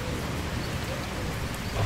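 Heavy rain falls steadily in The Slaverian Trucker driving game, a dense, even wash of noise with a low rumble beneath it that holds at a constant level for the whole stretch.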